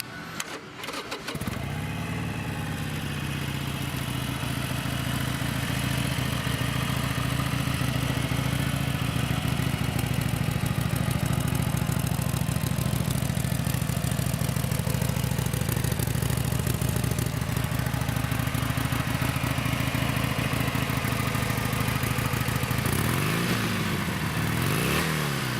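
A used Harley-Davidson Sportster 883 Iron XL883N, 3,789 miles, starts with a quick crank and then idles loudly and steadily for about twenty seconds in a low, throbbing rumble, ending with a couple of throttle blips near the close.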